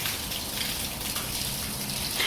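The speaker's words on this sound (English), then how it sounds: "that crackling sound ended up being from the water falling down and hitting the cement" Water spills down onto a cement surface with a crackling, splashing patter, a dense steady wash of drops at close range with no talking.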